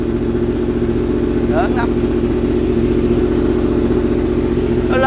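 A motorcycle engine runs steadily after being started, a loud continuous mid-pitched drone that fills the clip, with brief speech heard over it.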